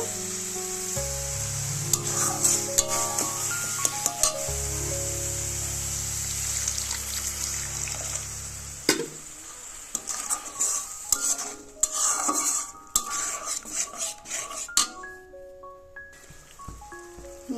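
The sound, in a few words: water added to sizzling spice masala, then boiling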